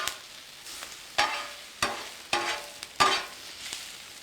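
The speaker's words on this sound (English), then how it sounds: "Cook them just a little bit more with that fajita seasoning on it." Peppers and onions dusted with fajita seasoning sizzle on a Blackstone griddle, broken by five or six sharp spatula scrapes and stirring strokes at uneven intervals, close and fairly quiet, with no talking.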